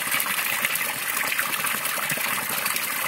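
Water gushes steadily from the Saint-Jacques fountain, decorated with a scallop shell, at Ygos-Saint-Saturnin, a constant close rushing splash with no voices.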